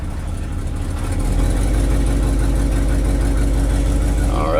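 The engine of a 1969 Ford F-250 runs at a steady, loud idle up close, with a low rumbling throb and a little exhaust roughness that holds constant throughout.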